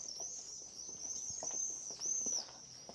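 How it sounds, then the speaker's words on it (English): Small birds chirp with high, thin, continuous calls in a quiet outdoor setting in Saint-Paul-de-Vence, France, with faint footsteps and rustling underneath. "You hear all the little birdies chirping."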